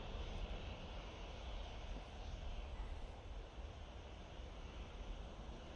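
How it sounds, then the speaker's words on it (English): A TUI Boeing 787-8 Dreamliner taxiing at Manchester Airport gives a steady, distant engine rumble and hiss that fills the whole stretch, with no talk. "we've got that TUI Dreamliner on the taxi"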